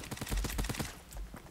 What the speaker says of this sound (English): There's a lot of shooting by me.